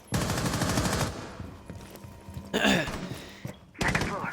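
Gunfire in an Xbox esports match comes in short rapid bursts, one at the start and two more a few seconds later, under excited commentators talking over the action.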